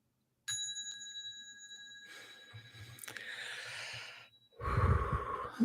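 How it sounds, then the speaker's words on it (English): A single gong strike rings out with sustained metallic tones that hum and slowly decay, followed by softer rustling and a louder low thump near the end. "one bang of the gong for that one"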